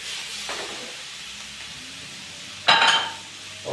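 Meat and vegetables stirred in sauce in a hot pan, a steady soft sizzle and hiss with a brief louder scraping burst of the spoon near the end.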